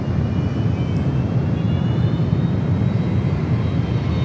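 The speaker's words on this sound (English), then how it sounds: "All right, the 757 cleared for takeoff." A Boeing 757 jet taking off at San Francisco airport, its engines giving a loud, steady roar that holds constant throughout with no talk over it.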